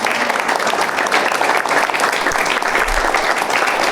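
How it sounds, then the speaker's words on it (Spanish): Steady, dense audience applause fills a conversation event, many hands clapping continuously at a loud, even level with no break. "Así que voy a pedirles un fuerte aplauso, por favor, para Roxana Neri."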